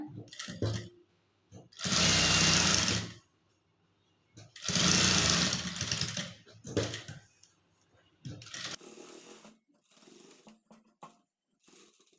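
A sewing machine stitches a seam down the center of folded blouse cloth, running in two sustained bursts with quieter stretches of talk and handling noise between them.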